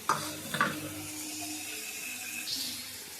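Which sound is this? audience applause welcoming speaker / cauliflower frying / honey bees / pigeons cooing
cauliflower frying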